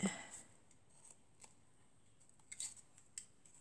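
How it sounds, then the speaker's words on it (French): Scissors snip through crepe paper while a paper rosette is being made, giving several short, crisp cuts and rustles spaced irregularly, close and fairly quiet with no speech. "On coupe, on rabat un petit coup dessous pour que ça soit propre."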